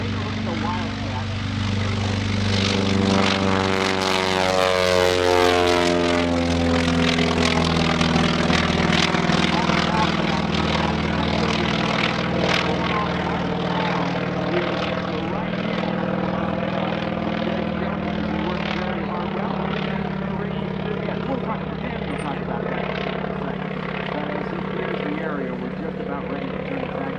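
A Wildcat propeller airplane at EAA AirVenture roars past, its engine drone sweeping in pitch as it approaches and recedes, loud and sustained with a commentator talking over it.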